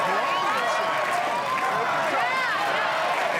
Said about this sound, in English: The crowd starting up the Brian chant.